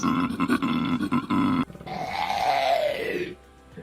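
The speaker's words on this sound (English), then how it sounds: "Male koalas grunt to attract females." Deep, rasping grunts from a male koala pulse rapidly, then give way to a long, groaning bellow that rises and falls before fading out.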